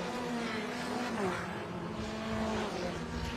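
F1600 race cars driving through turn six, a loud continuous engine drone with several overlapping tones shifting in pitch as the cars work through the corner.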